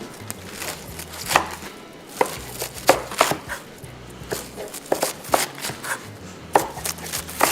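A knife chopping a large Chinese cabbage for kimchi on a board, irregular sharp thuds repeating through the clip, close and distinct over a low background hum with no talking.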